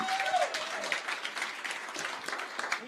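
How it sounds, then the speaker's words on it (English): A crowd at a union panel in Memphis applauds for Leah Daughtry, a full, sustained wash of clapping with a brief whistle or cheer early on and faint voices mixed in. "Let's give Leah Daughtry a round of applause."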